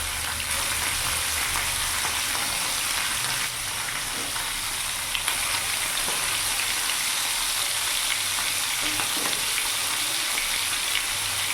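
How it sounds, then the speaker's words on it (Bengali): Khoyra fish frying in hot oil, with a dense, steady sizzle and crackle that holds at an even level for the whole stretch, close by with no talking. "তেল গরম হয়ে গেছে, এবার আমি মাছগুলো দিয়ে দেবো।"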